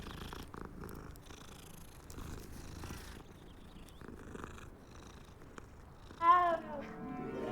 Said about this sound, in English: Last time we petted a cat, it glitched us.